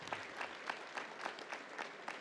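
Graduation audience at a high school ceremony gives a fairly faint, steady round of applause, with rhythmic clap bursts spread through the crowd and no talk.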